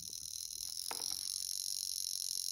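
Mechanical alarm watch ringing with a chirping, cricket-like buzz: a steady high insect-like trill runs through the whole stretch, with a brief brighter burst near the middle, close and fairly loud.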